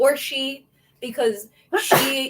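A sneeze bursts out at the end of a podcast chat, loud and close, right after a few spoken words from a nearby voice.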